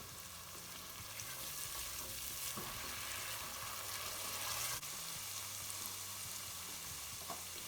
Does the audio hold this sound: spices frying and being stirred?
yes